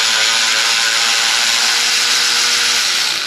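Socket wrench ratcheting in a rapid continuous run while a pulley is removed from a Pontiac Firebird engine, close and loud, with no talking.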